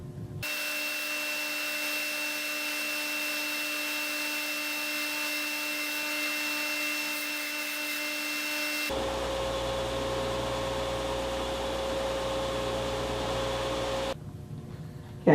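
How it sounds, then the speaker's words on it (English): Edge sander running steadily as wooden trapezoid segments are sanded, a constant whirring motor hum with a high whine, changing tone partway through as the load shifts, then cutting off near the end. "So I use my edge sander."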